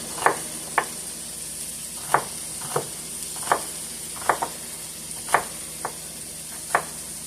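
Turkey meatballs and onion sizzle steadily in a pan, a soft continuous hiss broken by regular scraping taps of a utensil stirring every second or so.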